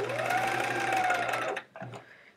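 A sewing machine stitches a row of a chevron quilt in a quick, even whir that rises slightly in pitch, close and clear, then stops after about a second and a half with a few soft handling sounds.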